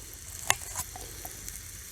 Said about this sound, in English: We'll let those cook for a bit and start sizzling.